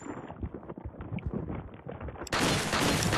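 Video game gunfire from Resident Evil 4 rattles in a dense run of shots, then gives way to a loud burst of harsh noise near the end.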